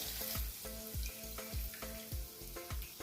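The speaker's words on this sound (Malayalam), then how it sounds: "ഞാനിതിലേക്ക് ഒരു ടേബിൾ സ്പൂൺ ഓയിൽ കൂടെ ചേർത്ത് കൊടുക്കുകയാണ് അതിലേക്ക് നമ്മൾ ബീറ്റ് ചെയ്ത് വെച്ചിരിക്കുന്ന മുട്ട ചേർത്ത് കൊടുക്കുക" Beaten egg poured into a pan with a tablespoon of oil, crackling and sizzling loudly up close, with a run of regular scraping knocks from stirring.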